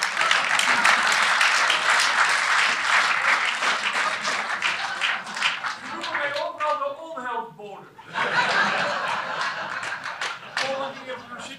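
Applause from a Dutch political debate audience for a garage owner, dense clapping filling the first six seconds, then dropping away under a man's speech and briefly resurging with chuckles and voices.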